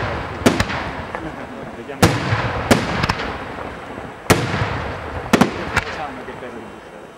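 An aerial fireworks display at the Sant'Oronzo feast in Turi, Bari, with sharp, loud shell bursts and a main bomb, about eight booming cracks at uneven intervals with crackling tails, and people talking between them.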